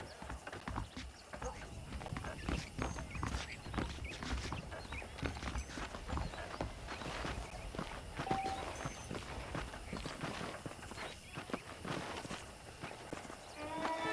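Saddled horses' hooves in the Red Dead Redemption video game, a steady clip-clop of walking gait running the whole stretch over a low bed of ambient game sound.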